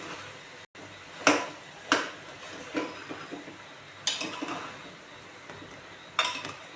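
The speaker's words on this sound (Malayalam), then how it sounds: "എന്നിട്ട് ഈ പച്ചക്കറി എല്ലാം നല്ലപോലെ ഇളക്കി കൊടുക്കണം. ബട്ടറും എണ്ണയും ഒഴിച്ചിട്ടുണ്ട് ഇതിനോട്." A spoon scrapes and knocks against a pan while pav bhaji vegetables are stirred in butter and oil, giving a handful of separate clinks and scuffs spread irregularly over a low background.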